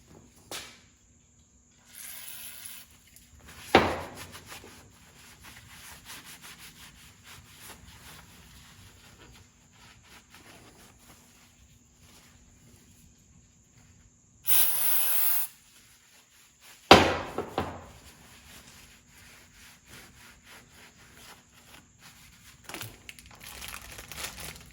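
A 1953 Ford F100 brake spindle being cleaned during a disc brake conversion, with crinkling and scrubbing noises, a couple of sharp spray-like hisses and sudden loud bursts scattered across a mostly quiet stretch, close to the listener.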